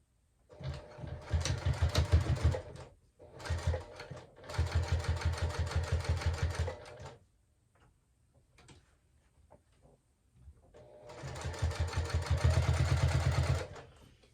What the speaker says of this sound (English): While we're sewing this down, it's also closing up the bottom.